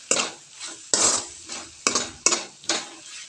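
Onion and tomato chutney is stirred in a pan with a utensil, making five distinct scraping strokes in an even rhythm, close and clear with no talking.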